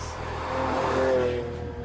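Lamborghini Aventador with a 12-cylinder, 700 horsepower engine mounted just behind the driver, revving up and accelerating hard in a short, loud burst whose pitch rises then eases, heard close from inside the car.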